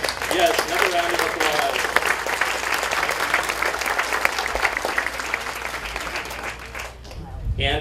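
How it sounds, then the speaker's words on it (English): Applause from the audience at a city State of the City event, a steady wash of many hands clapping for nearly eight seconds, with voices mixed in; it fades briefly near the end. "another round of"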